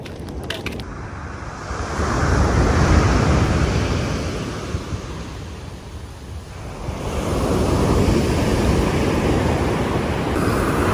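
Waves surge and recede in two broad swells, a rushing wash of surf with wind buffeting the microphone, loud and close, no speech.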